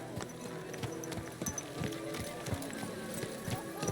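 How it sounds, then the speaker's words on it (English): Horse hooves clip-clop at a steady walking rhythm in a medieval Bohemian market scene from Kingdom Come: Deliverance II, moderately close and mixed under busy crowd chatter and merchant calls. "Watch out for that horse."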